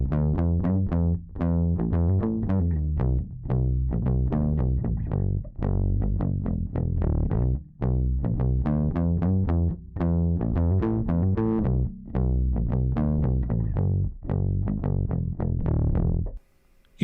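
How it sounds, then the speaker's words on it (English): A bass guitar runs through a homemade bass boost pedal adding a slight growl, playing a steady riff of loud, plucked, thick and slightly distorted notes with brief gaps, without any talking. "you can create a bass boost pedal with a little bit of growl for your bass guitar"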